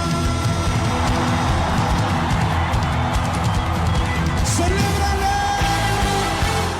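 A church congregation shouts together in a loud, sustained roar of many voices that carries without a break for several seconds.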